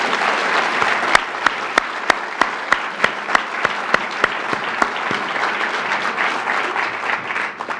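Audience applauds for New York City Police Commissioner Bratton at a State of the NYPD event, a steady dense wash of clapping from a large crowd that carries on for the full stretch with no voices over it.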